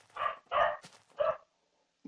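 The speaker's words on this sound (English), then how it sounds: "my dog's going nuts" A dog barks in three loud, close bursts over about a second and a half, followed by a short quiet yip.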